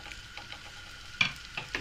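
A gözleme flatbread fries in a pan with about a teaspoon of oil, giving a soft, even sizzle with faint crackles and a few sharper pops, no speech.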